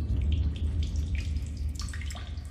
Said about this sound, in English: Some water, alright?